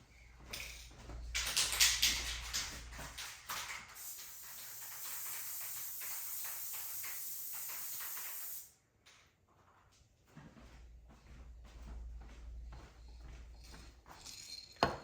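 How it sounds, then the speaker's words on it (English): Aerosol spray adhesive hisses steadily from a can, sprayed onto a box in one long burst of about seven seconds. Scattered handling clicks and knocks follow after it stops. "I'm going to spray it on the box, and then I'm gonna come back and adhere it to this bag."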